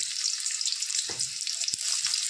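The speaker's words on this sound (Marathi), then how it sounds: "तेल गरम झाले. आता आपण त्याच्यामध्ये कांदा टाकूया" Finely chopped onion sizzles in hot oil for a tempering of dal with spinach. A bright, steady frying hiss runs throughout, with a couple of soft stirring knocks in between. Close by, with no voices.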